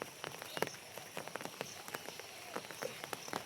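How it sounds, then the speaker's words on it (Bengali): Overnight rain falling on a muddy garden, heard as faint, scattered drips and light patters on leaves and ground, quiet and irregular, with no speech. "বৃষ্টি এখনও পড়ছে, সারা রাত বৃষ্টি হচ্ছে"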